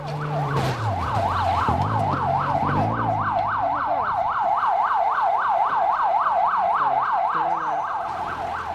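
Ambulance siren wailing in a fast, continuous up-and-down sweep, loud and steady throughout, over low rumbling traffic and engine noise, heard amid street chaos.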